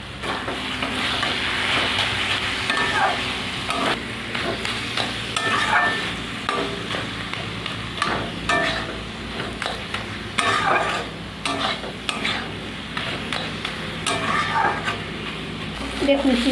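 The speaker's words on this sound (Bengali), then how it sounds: "চিনি দেওয়ার পর প্রায় আমি 5 মিনিট নাড়িয়ে নিয়েছি শাকটাকে" Leafy greens with sugar being stirred and fried in a pan, a steady sizzle with repeated scraping and stirring strokes throughout, close and fairly loud, while a person talks over it.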